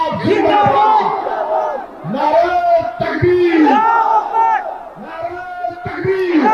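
A rally crowd loudly chanting political slogans in unison, repeated rhythmic shouted bursts following a leader's call, close and dense.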